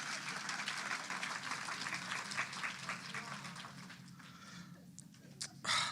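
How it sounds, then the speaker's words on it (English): Audience applause at a poetry reading, steady broadband clapping that thins out and fades after a few seconds, followed by a couple of isolated sharp claps near the end. "Y'all give a round of applause for this"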